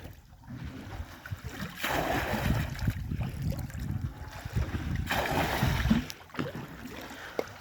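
Water is scooped and bailed out of a boat on a Sundarbans river, with repeated close splashing and sloshing bursts over a steady background of water noise.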